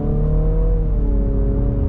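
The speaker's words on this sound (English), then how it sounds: "this is the first confirmed vehicle I can claim has piped in engine noise" Synthetic engine sound piped into the cabin of a 2022 Infiniti QX55, a steady low hum with faint tonal layers, moderately loud and brief, with no talk.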